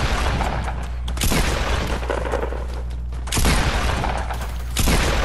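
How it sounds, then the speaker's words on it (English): Gunfire in the Fortnite battle royale video game: three loud, booming shots spaced a second or two apart, ringing over a constant rumble of game background noise. "We just need more practice shots."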